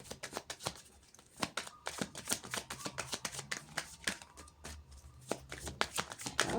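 Tarot cards are shuffled close by in a quick run of crisp, flicking riffles and taps, with no voices over them.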